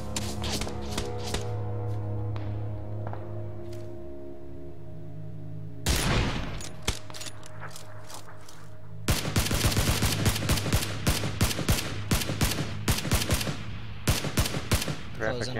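Gunfire in a shooter video game: rapid cracks and bursts of automatic fire grow denser toward the end, over a steady engine-like drone, with players talking now and then.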